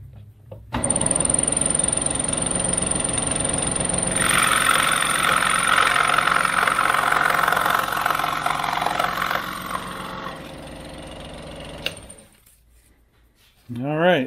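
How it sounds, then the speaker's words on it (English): A handheld saw blade cuts a spar slot in wood, shop-class style, a steady rasping buzz running for several seconds close by, then stopping abruptly, with a low mechanical hum underneath throughout. "we'll just simply take the blade and follow that down to that corner, and this whole triangle is going to drop out"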